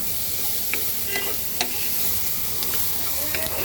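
Green chillies and chunky onion pieces frying in a pan over low heat, a constant close sizzle with scattered soft taps and scrapes of a spoon stirring through.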